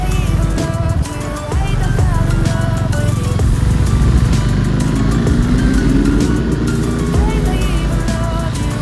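A loud superbike engine rumbles and revs close by, with pitch rising and falling throughout.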